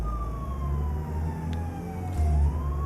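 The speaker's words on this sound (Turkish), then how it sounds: "Sireni kapat." Siren in Euro Truck Simulator 2 multiplayer, a steady wailing tone sliding slowly downward over about three seconds, heard alone with a low engine rumble underneath.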